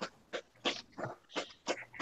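Dog giving a series of about seven short, evenly spaced barks or yips, fairly close and clear, with no talk over them.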